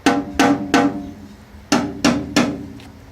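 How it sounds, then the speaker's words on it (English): Knuckle taps on the trunk panel of a Fiat 124 Spider or MX-5 Miata, six distinct hollow knocks in two groups of three, each ringing briefly with a resonant decay, close and alone. "So I'm tapping the other side, which is exactly opposite of this side, so you can hear the difference"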